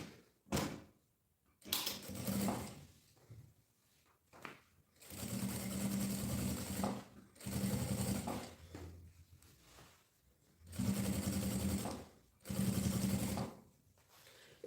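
A sewing machine stitches a bag lining in several stop-and-start runs separated by short pauses and handling noises. It is moderately close but fairly quiet, with no talk.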